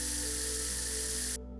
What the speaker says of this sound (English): So we need something that it feels like it's spraying out something.